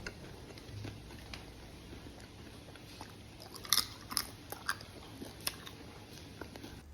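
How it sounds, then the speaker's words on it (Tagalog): Crispy fried pig intestine, chicharon isaw, is bitten and chewed close up. Several sharp crunches cluster in the middle over soft background noise, followed by lighter chewing crackles. "agad-agad natin tinikman at chinek kung maganda na ba ang kanyang pagkalutong."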